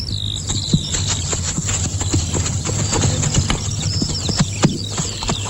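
Hooves clip-clop steadily as a horse is ridden, an even, close rhythm over a constant background hum, with faint creaks of tack and no speech.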